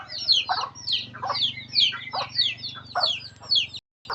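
A mother hen and her large chicks on a rural farm in Bohol, Philippines: close peeping chicks come in steady bursts over a low, rhythmic clucking from the hen.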